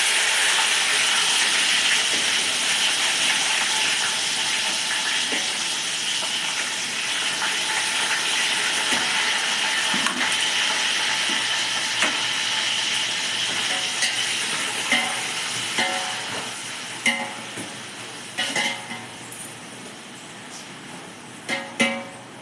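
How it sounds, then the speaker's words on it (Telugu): Onion frying in a pan, a steady close sizzle and hiss with occasional stirring clicks and scrapes growing more frequent toward the end. "ఉల్లిపాయ వేయడం బాగా ఫ్రై అయ్యింది"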